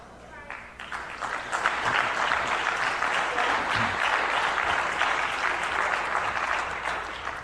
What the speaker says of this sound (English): Let's keep the round of applause going for Dr. Claude Anderson